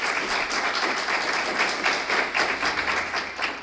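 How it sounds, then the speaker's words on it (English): An audience at a school district candidates forum applauds, a steady close wash of many hands clapping that keeps an even rhythm and fades slightly at the end. "how about if the audience will give them an applause for even running"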